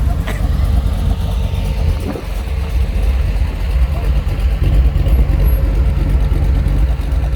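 A 1947 Mercury rolls along in a small-town Arizona parade, its engine a steady low rumble that holds constant throughout with outdoor background noise.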